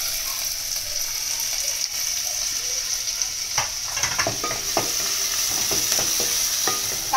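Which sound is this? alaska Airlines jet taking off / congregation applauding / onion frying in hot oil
onion frying in hot oil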